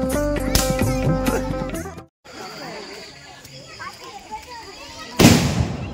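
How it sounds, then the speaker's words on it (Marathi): Village fireworks going off in a loud crackling burst, a brief lull, then scattered pops and crackles with a sharp bang near the end, with people chattering in the background. "जोरदार अशी चालू झालेली फटाक्यांची आतिषबाजी."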